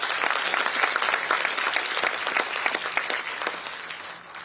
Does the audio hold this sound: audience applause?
yes